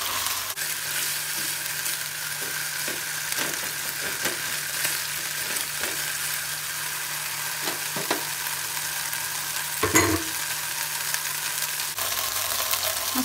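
Mashed sardines with red bird's-eye chilies stir-frying in a pan for fried rice, a steady close sizzle with repeated scraping strokes of a spatula and a brief louder clatter near the end.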